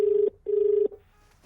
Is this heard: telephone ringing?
yes